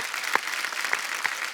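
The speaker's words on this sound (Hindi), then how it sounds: "जोरदार तालियां बनती हैं" Steady applause from a comedy show studio audience, a dense wash of clapping that holds at an even level throughout.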